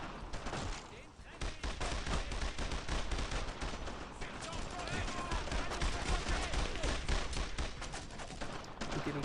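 Gunfire in the World War II shooter Brothers in Arms: dense, continuous volleys and bursts of rifle and machine-gun fire rattle without pause throughout, with someone speaking over the shooting.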